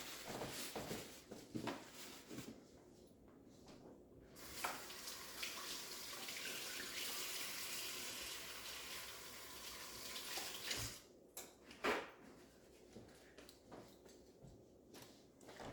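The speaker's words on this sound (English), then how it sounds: "Let me wash my hands real quick." A kitchen tap runs while hands are washed, a faint steady gush of water lasting several seconds, framed by soft knocks and small handling sounds, with no talking.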